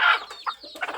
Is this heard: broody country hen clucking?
yes